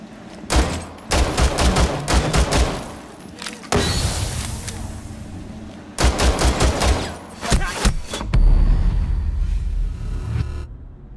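Bursts of game gunfire in Rainbow Six Siege on the Kafe Dostoyevsky map, loud rapid volleys in several groups separated by short breaks, with rumbling impacts between them and no talk.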